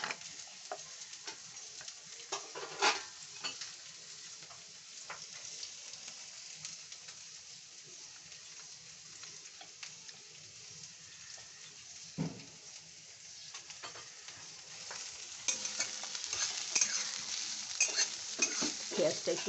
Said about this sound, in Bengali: পেঁয়াজটা একটু ভেজে ফিরে আসছি।